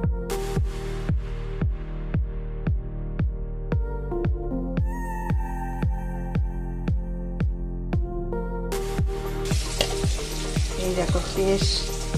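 Nigella seeds (kalo jeera) fry in hot oil: a rhythmic, pulsing hum runs throughout, and near the end a bright, crackling sizzle rises over it, close and fairly loud.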